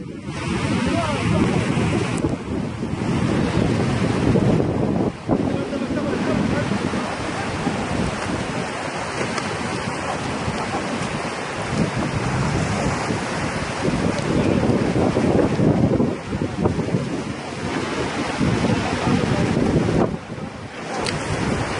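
A roaring flash-flood torrent surges through Wadi Shawqab as it sweeps away a jeep, a loud continuous rushing wash with wind buffeting the microphone and excited voices faintly underneath.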